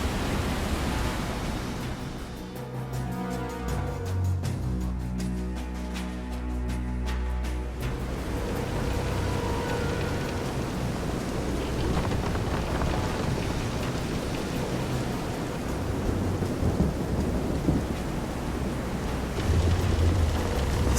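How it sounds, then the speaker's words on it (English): A video-game thunderstorm at sea roars with heavy, continuous rain and wind-like noise, loud throughout, with a deep rumble in the first seconds that fits thunder. "This is some storm."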